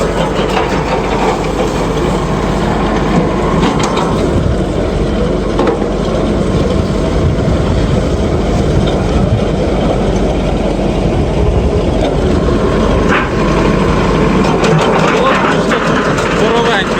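An ARPAL AM-80 branch chipper powered by an MTZ 82.1 tractor runs continuously outdoors, a loud, rough engine drone with grinding and crunching as branches are fed through, with voices faintly underneath.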